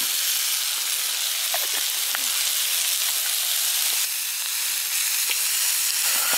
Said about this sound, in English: I'm going to stir it all up